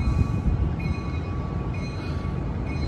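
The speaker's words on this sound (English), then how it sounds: "this is the out of service San Joaquin train 717" An out-of-service Amtrak San Joaquin passenger train, an MPCU-led Venture cars set, rolls into Oakland Jack London station with a steady loud rumble and faint high wheel tones throughout.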